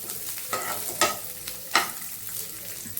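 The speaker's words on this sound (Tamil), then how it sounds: "கொஞ்சம் வெங்காயம்லாம் நல்லா வதங்கிடணும் உங்களுக்கு." Onions and green chilies sautéing in a little oil, with a steady background sizzle and a few louder stirring scrapes at intervals. No one speaks.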